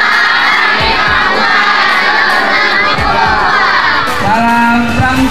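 A large crowd of young scouts at an Indonesian Pramuka anniversary event shouts and cheers together in a loud, sustained roar, with children's voices rising over the mass of sound.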